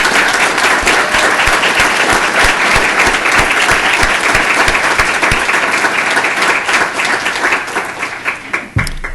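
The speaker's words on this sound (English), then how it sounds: "So let's give them a warm round of applause." Sustained, loud applause from an audience at a school board meeting, continuous clapping with no gaps that thins slightly near the end.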